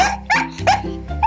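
A dog gives several short, sharp barks and yips close by, in quick uneven bursts, alert and eager.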